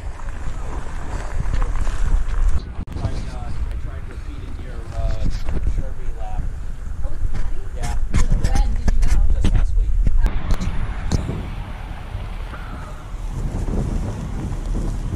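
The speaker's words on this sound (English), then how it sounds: "Yep, there's that wind." Gusty winter wind buffets the microphone outdoors at a motorcycle ride, a rough continuous roar that swells and eases, with people talking and calling out over it.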